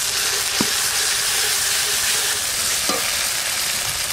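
Ground paste of ginger, cumin, coriander, dried chilli and black pepper fries in a pan for village-style fish kalia, giving a steady, loud sizzle with a couple of soft clinks from stirring.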